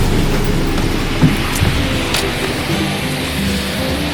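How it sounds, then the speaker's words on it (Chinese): Steady rain falls near Maruyama Park in Sapporo, Hokkaido, a continuous broad hiss with a low rumble beneath it that could be passing traffic, and a couple of small knocks partway through. "下雨，下雨"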